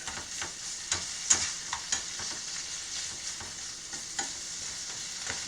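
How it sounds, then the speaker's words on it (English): Tomato, onion, pepper and bacon sizzle steadily in a frying pan while a utensil scrapes and stirs in repeated light strokes, close and fairly quiet, with no voices. "We want everything to be nice and sauteed."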